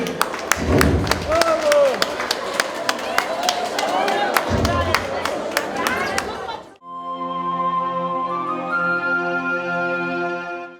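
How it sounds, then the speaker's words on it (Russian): An audience claps and chatters at a parents' emerald wedding anniversary, dense applause with voices mixed in for several seconds, then it stops abruptly and steady music takes over. "Аплодисменты!"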